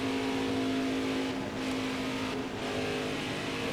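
A NASCAR Cup Series stock car in NASCAR Heat 5 holds a loud, steady high-revving engine drone on track, the pitch wavering slightly as the throttle is feathered briefly, with no talking.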